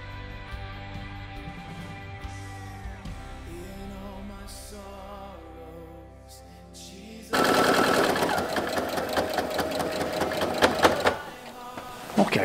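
A sewing machine stitches bias tape binding onto a dress, starting with quiet fabric handling, then a loud rapid mechanical chatter of stitching for several seconds before stopping.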